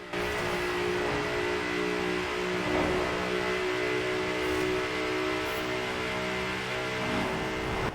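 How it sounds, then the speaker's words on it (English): A stock-engine 2018 Ford Mustang in the Forza Horizon 4 racing game drones steadily at high revs, a sustained loud engine tone with harmonic whine and no talk. "I'll let you have a listen to this thing with its stock engine"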